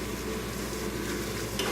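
Meat frying in a pan hisses with a dense, steady sizzle while being stirred, close and fairly quiet, with a brief scrape near the end.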